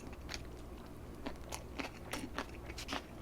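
Close, crisp crunching from someone chewing seasoned crunchy green chili peppers, a Korean side dish, with irregular bites and crackles over a quiet background and no talk.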